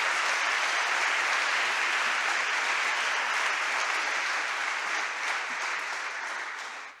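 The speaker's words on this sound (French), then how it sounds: "je voudrais qu'on l'applaudisse" A crowd applauds at a public tribunal event, a full and even roar of clapping that holds steady before tapering off at the very end.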